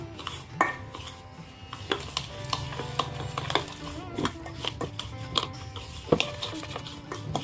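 A spoon scrapes and knocks against a pan while stirring flour mixed with country sugar for millet laddu, with irregular metallic clinks and scrapes, close and fairly quiet.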